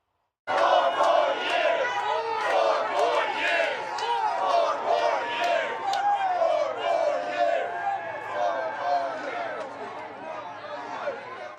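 A large crowd cheers and chants loudly for Trump inside a New York City bodega in Manhattan, a dense roar of overlapping voices that rises and falls steadily throughout.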